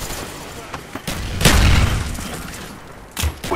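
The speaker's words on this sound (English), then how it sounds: "Throwing grenade!" A frag grenade blast in Call of Duty Black Ops combat, a loud close boom with a rumbling tail, followed by another sharp burst of gunfire among steady battle noise.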